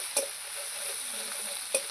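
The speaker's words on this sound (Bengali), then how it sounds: "মশলাটা ভালো করে নেড়ে নেব।" Spice masala with salt and turmeric fries in a pan while being stirred. A soft, steady sizzle is broken by two brief scrapes of the spatula.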